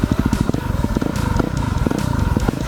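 A 2009 Yamaha WR250R dirt bike with engine work idles close by, a loud, rapid, uneven popping thump with rattly mechanical clatter, steady throughout.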